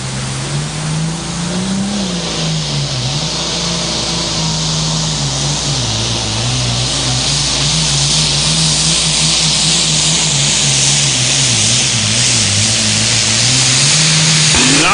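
Super Farm class pulling tractor weighing 9,300 pounds, limited to a 3-inch turbocharger, at a truck and tractor pull in Sandwich, Illinois: a loud, sustained engine roar with steady revving and slight pitch wavers across the whole run.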